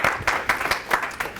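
Audience applause for John at a WayFinder presentation, a short burst of hand claps with a few distinct louder claps standing out from the steady patter.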